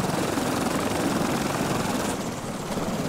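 A loud, continuous rotor-like drone of an aircraft in the video game Stranded Deep fills the clip, steady and close with a fluttering beat, no voices.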